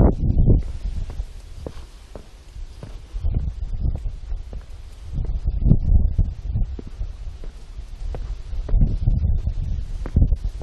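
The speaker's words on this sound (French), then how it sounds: "Bon, il y a du vent, hein." Wind buffets the microphone in uneven gusts, with low rumbling thumps and rustling throughout, outdoors and close in Yangmingshan National Park, Taiwan.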